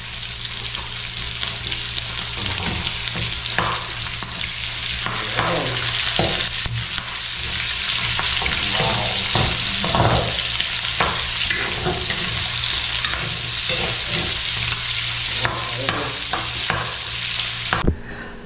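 Onion and garlic frying in a pan, a steady loud sizzle throughout with intermittent scraping stir strokes, stopping abruptly near the end.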